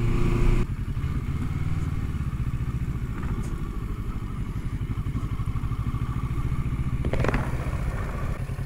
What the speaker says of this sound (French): les bandes rugueuses, c'est le pire truc en moto